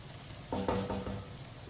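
Onions cooking in a pan for Chinese rice, stirred with a spoon: a quiet sizzle with a few short scraping stirs in the middle, then a steady low frying hiss.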